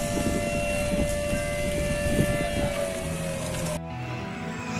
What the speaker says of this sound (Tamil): இங்க வந்து பாத்தீங்கன்னா தீயணைப்பு வண்டி இதெல்லாம் போய்கிட்டு இருக்கு.